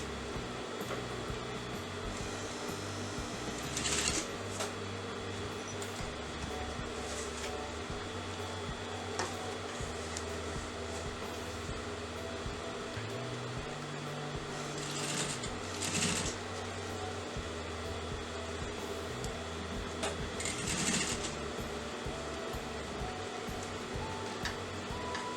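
A sewing machine stitches a folded half collar neck edge, a continuous mechanical whir with several short louder bursts of fast stitching, running alone without speech.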